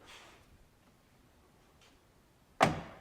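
A single solid thump of a Jeep door shutting near the end, after a quiet stretch with faint rustling.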